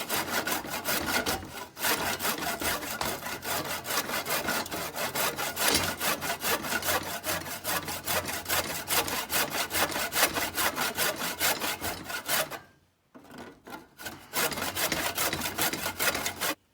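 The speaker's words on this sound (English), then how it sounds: "I got tired just hand sawing, used a radial arm saw." Hand saw cutting through wood for a small saw-blade bat build: fast, steady back-and-forth strokes close to the microphone, with a brief pause near the end before the strokes resume.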